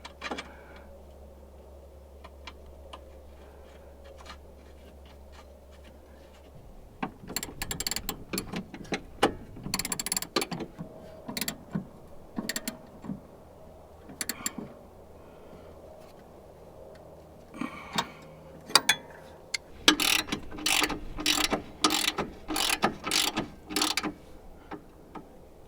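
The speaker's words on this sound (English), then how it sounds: "And then we'll put the nut on." A ratchet works a nut onto car suspension during a lift kit install with Aerogenics X Swift springs, giving bursts of quick metallic clicking. The clicks come in irregular runs after a low hum at the start, close and fairly loud.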